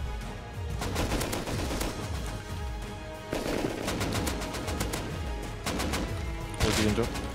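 Rapid bursts of automatic gunfire from the survival game Rust, firing in three loud clusters with dense crackling shots, while a player talks over the shooting.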